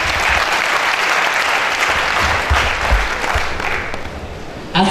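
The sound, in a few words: audience applause at celebration event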